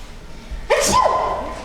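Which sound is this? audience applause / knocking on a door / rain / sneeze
sneeze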